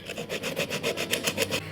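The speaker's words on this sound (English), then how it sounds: "I'm going to round that into a rounded corner with a stick with some sandpaper on." Wood being rounded into a corner with sandpaper wrapped on a stick while making a luthier clamp, a quick series of close, rhythmic rasping strokes back and forth.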